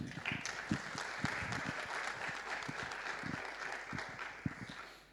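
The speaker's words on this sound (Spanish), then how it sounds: "les pido un aplauso" A conference audience claps in a faint, distant round of applause with scattered sharper individual claps standing out, tapering toward the end.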